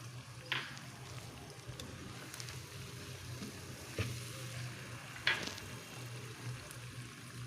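Green chilies and spices fry in a pan with a moderate, steady sizzle, punctuated by a few sharp spatters and utensil clicks.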